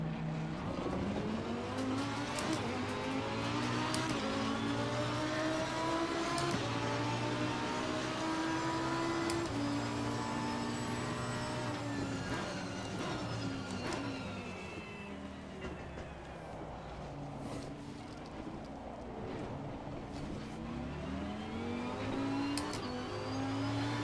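Race car engine in Assetto Corsa Competizione driving through heavy rain, revving up and down through gear changes with constant loud engine drone and a steady wash of spray throughout.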